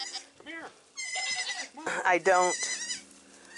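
Dairy goats bleat in several loud, wavering calls close by, with a person speaking briefly between and over them.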